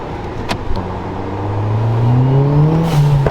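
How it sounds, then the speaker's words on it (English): A modified Hyundai Genesis engine accelerates with a rising, throaty growl, climbing in pitch through the gears, loud and close, with a brief whir at the start. "I can't get enough of the sound of this car"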